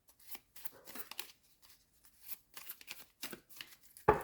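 Tarot cards are shuffled and drawn by hand in a quiet room: soft, close riffling and sliding bursts come in short irregular clusters, ending with one sharp card snap.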